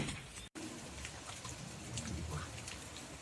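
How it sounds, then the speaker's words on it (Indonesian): Steady rain falls outdoors with a dense, even patter of drops hitting surfaces, moderately loud and continuous, briefly cut by a short gap near the start and with no voices. "Waduh, hujan deh."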